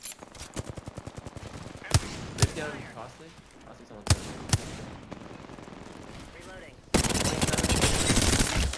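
Apex Legends gunfire: a fast automatic burst, then several single heavy shots with gaps between, ending in a dense, sustained roar of weapon fire and action noise, with players talking over parts of it.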